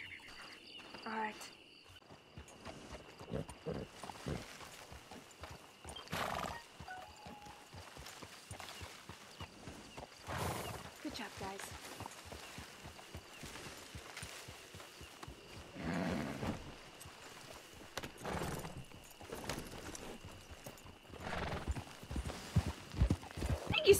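Scattered hoof clops from a horse at a walk in Red Dead Redemption 2, mixed with faint crickets and occasional louder bursts, fairly quiet overall.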